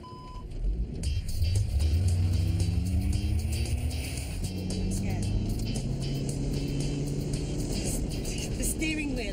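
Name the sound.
self-driving car starting and accelerating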